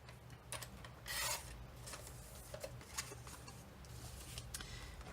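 A cardstock card base is cut in half, giving soft scraping and slicing strokes with light rustling of paper, close and fairly quiet.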